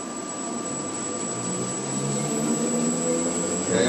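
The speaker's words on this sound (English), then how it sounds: "Okay, oil pump is running." An electric vehicle's ZF automatic gearbox oil pump runs in neutral, giving a steady, close mechanical whine and hum with a constant high tone that swells slightly toward the end.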